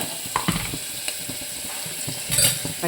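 Mustard seeds, urad dal and cumin sizzle in hot oil, giving a steady frying hiss broken by sharp scattered pops and crackles, with one louder burst near the end; close by, with no talking.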